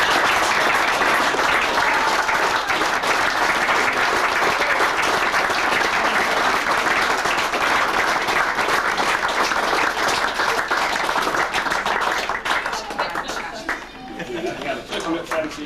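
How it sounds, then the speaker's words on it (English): An audience at the Malden Wanderers cricket club gives Francie a long, loud round of applause, dense clapping from many hands sustained throughout before thinning out near the end. "you need probably the biggest round of applause"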